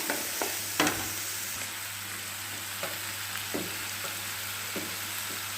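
A spice masala for soya curry is stir-fried in a pan with green chilies and ginger, giving a steady close sizzle under occasional spatula clicks and scrapes, with a low hum in the background.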